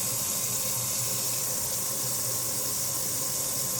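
Kitchen faucet turned to hot, running water into the sink with a steady hissing rush throughout, close and unbroken, with no voices.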